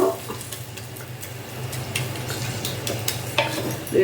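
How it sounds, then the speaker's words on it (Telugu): Garam masala frying in a pan for a ridge gourd, tomato and mutton curry, a soft steady sizzle under intermittent scraping and clinks of a spoon stirring against the metal, close and continuous without speech. "ఇది కాస్త పచ్చివాసన పోయే వరకు కొంచెం ఫ్రై చేసి"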